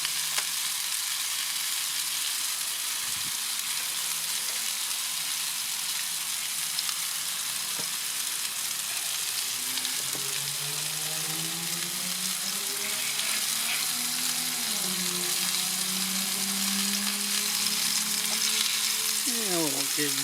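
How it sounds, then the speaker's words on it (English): Smash burger patties seasoned with Lawry's seasoning salt sizzle on a hot griddle, a steady bright crackle throughout with occasional scraping and low clatter of utensils, close and continuous, no speech. "we'll give those a little bit of fry on the first side"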